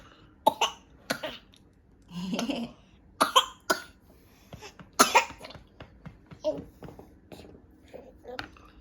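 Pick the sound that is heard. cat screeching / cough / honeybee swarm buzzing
cough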